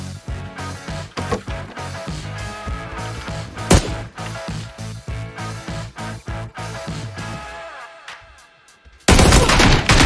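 Video game gunfire crackles in rapid, repeated bursts of shots that trail off briefly before a loud, dense burst of noise cuts in at the end.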